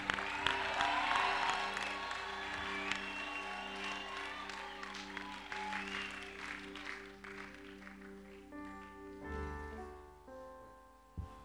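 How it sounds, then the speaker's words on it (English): A church congregation at a pastors' conference claps and shouts together in a sustained, fairly loud wave of applause and cheering that gradually thins, with some voices standing out near the end. "Give the Lord a shout and a clap offering."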